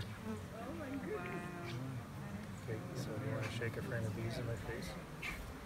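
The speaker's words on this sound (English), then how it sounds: "A frame of bees in your face." Honeybees from a shaken hive frame at a beekeepers' field day, their dense buzzing hum running steadily throughout, close and continuous beneath people talking nearby.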